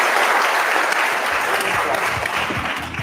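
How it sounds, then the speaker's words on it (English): Steady audience applause rings out for two finalists at an event, dense clapping throughout with faint voices underneath. "We got an applause for both of them."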